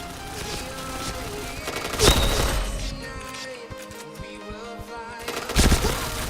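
Bursts of gunfire from the online shooter Point Blank, with loud impacts near the start and end and a rapid rattle of shots in the middle.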